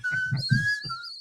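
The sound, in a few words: teeth whistle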